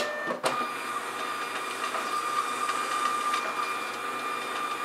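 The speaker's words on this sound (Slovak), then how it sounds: "Tuto je ten prvý spôsob, kedy nám tlačiareň vytlačí štítky v dávke." A Zebra GX430t thermal transfer label printer runs a batch of labels, giving a steady mechanical whir with faint ticking throughout and a sharp click near the start; no talking.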